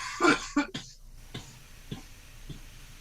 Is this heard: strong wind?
no